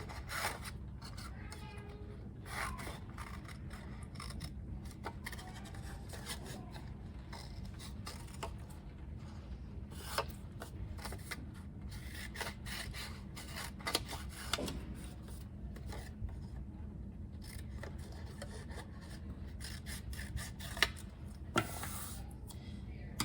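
Scissors snipping through a paper pot shape for a children's cactus craft, quiet close crunching cuts in short irregular bursts with soft rustling of paper between them.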